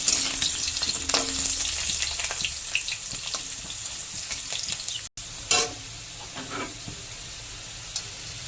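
Potatoes fry in a pan of oil left over from frying pointed gourd, giving a steady close sizzle with occasional spatula scrapes and stirring clicks, briefly interrupted midway before the crackle resumes.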